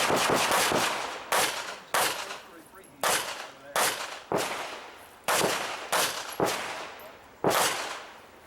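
Pistol shots ring out at an IDPA shooting match at Mecklenburg Wildlife Club, loud and nearby, coming in quick pairs and bursts with short pauses between strings, over the ambient noise of an outdoor range.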